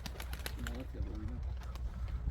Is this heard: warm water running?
no